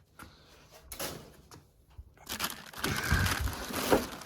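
Polystyrene packaging is handled while a Seville UltraHD Classic 8 Drawer Unit is unboxed in a workshop, giving scattered squeaky crunches and rustles that swell into a denser, louder stretch of crinkling in the second half.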